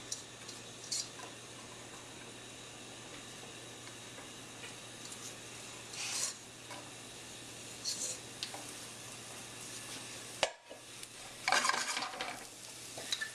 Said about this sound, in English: I'm going to pull just the onions and get the onion sauteing.